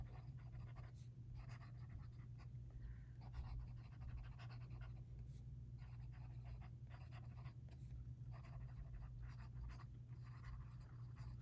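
A Sailor King of Pen fountain pen nib scratching across paper in short, steady strokes with brief pauses, close up and quiet, with no talking.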